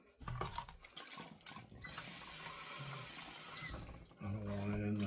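Water running from a tap into a sink while a bowl is rinsed out, a steady splashing hiss that starts and stops, with brief clatter around it.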